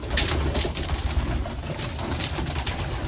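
Homing pigeons coo softly and repeatedly outdoors by their loft over a steady background hiss, with low throaty calls clustered near the start.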